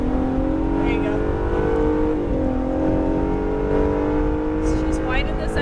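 An Acura NSX lapping a race track, its engine droning steadily with a brief dip in pitch as it shifts or lifts, while a voice talks over the car noise.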